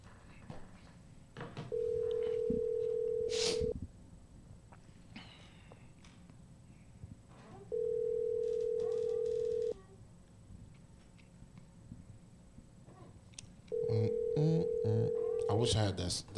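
Telephone ringback tone on an outgoing call, three long steady rings spaced several seconds apart, clear and loud, with people talking between and over the rings.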